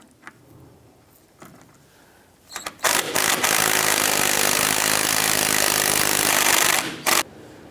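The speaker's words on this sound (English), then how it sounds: "we're going to use a 14mm socket on our impact gun underneath." A pneumatic impact gun with a 14mm socket runs a sway bar link nut off a 1994-2004 Chevrolet S10, a few short taps then a loud sustained rattling burst of about four seconds, ending with a quick final blip.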